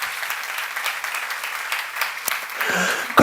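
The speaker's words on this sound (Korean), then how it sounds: "박수로 하나 둘 셋." Audience applause fills a church seminar hall during a sermon on 2 Kings, steady clapping from many hands throughout, with a few louder claps standing out near the end.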